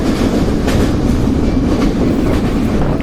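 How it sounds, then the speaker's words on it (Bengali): The Benapole Express passenger train rushes along at about 82 km/h, giving a loud, steady roar of wheels and carriages with faint rhythmic clatter from the rails and no voices. "এই মুহূর্তে বেনাপোল এক্সপ্রেস ট্রেনটি প্রায় 82 কিলোমিটার গতিবেগে ছুটছে।"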